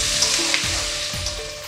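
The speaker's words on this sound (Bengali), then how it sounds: "আলুগুলোকে ভালো করে ভেজে নেব।" Potatoes frying in hot oil in a pan, a loud, dense, continuous sizzle with a couple of low scraping stirs underneath and no voices.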